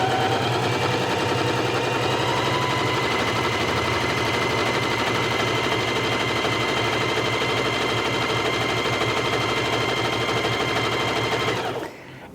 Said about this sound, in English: So let's lower the foot and start stitching.